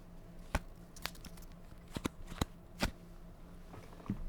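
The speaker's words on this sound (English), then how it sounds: "I will put a stamp on this envelope, put it inside the envelope first" A paper envelope is handled and a stamp pressed onto it, giving several short, crisp papery snaps and rustles spread across a quiet, close background, with no talking.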